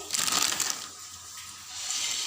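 Papad frying in hot oil gives a loud, close crackling sizzle that bursts strongly at first, then settles into a steadier hiss.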